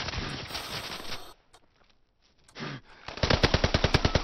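Rapid automatic gunfire from the World War II shooter Call of Duty: WWII, loud bursts with short gaps, ending in a fast, evenly spaced stream of shots.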